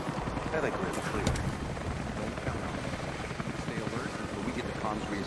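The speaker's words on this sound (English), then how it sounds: "That was Constantine's chopper." A helicopter flies in the video game Rise of the Tomb Raider, its rotor thrum a steady, dense roar that fills the whole stretch without letting up.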